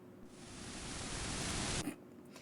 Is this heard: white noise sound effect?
yes